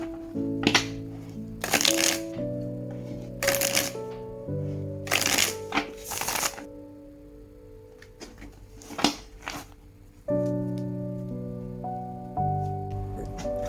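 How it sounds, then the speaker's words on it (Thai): A deck of tarot cards being shuffled by hand: repeated crisp riffling bursts and soft flicks, close and clear, with gentle sustained music tones underneath. "เดี๋ยวเราลองมาสับไพ่แล้วดูกันเลยนะครับ"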